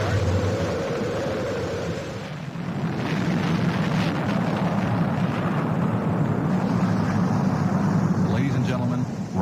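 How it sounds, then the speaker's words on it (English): The Space Shuttle Columbia's main engines roar at launch in a broad, rumbling, continuous blast that swells slightly as it goes on, with a voice talking over it. "We have main engine start."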